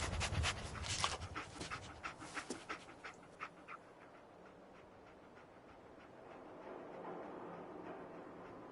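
A dog companion in the video game Fallout 4 pants close by in quick, rhythmic huffs that gradually fade, leaving a low, steady ambient hum.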